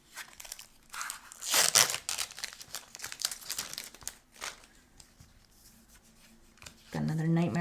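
A knife slicing into a Magic: the Gathering Theros Beyond Death booster pack brings bursts of crinkling, tearing foil wrapper, loud then softer, with a voice coming in at the end.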